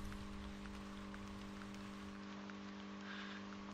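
Rain in a hunting video game set in the mountains, a faint, steady patter of drops over a low constant hum, with no talk.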